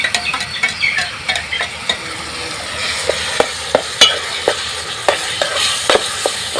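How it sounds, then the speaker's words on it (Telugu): Ginger-garlic paste fries with onion paste in a pan, a constant close sizzle punctuated by a rapid series of sharp spoon taps and scrapes against the metal as it is stirred. "అల్లం అల్లం వెల్లుల్లి పేస్ట్ కూడా వేసేస్తాము ఇది వేగుతూ ఉంటుంది"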